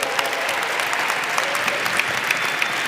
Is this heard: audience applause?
yes